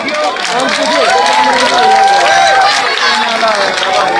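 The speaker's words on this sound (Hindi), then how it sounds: "तालियां बजती रहनी चाहिए साथियों।" Crowd applause at an outdoor village public rally in Bay, Gannaur, a loud, steady wash of clapping and cheering that runs the whole stretch, with voices sounding over it.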